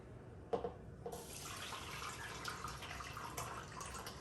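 Homemade chile sauce is poured through a thin mesh strainer set on the edge of a bowl, a faint, continuous liquid trickle and patter after a small clink at the start.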